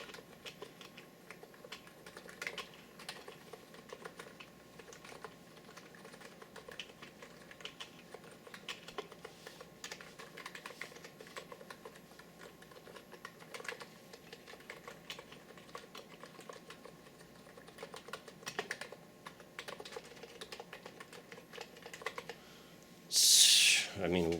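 Rapid, steady typing on a Niz Plum Atom 68 Bluetooth mechanical keyboard fills the scene with a continuous patter of close keystrokes, ending in a brief louder burst.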